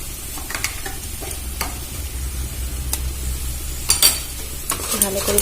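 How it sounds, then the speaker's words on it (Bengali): Ginger paste and spice paste fry in a pan with a steady sizzle, punctuated by clinks and scrapes of a stirring spoon against the metal, close and fairly loud. "মশলাটা ভাজা হয়ে গেছে। আমি দিয়ে দেবো 2 চামচ আদা বাটা।"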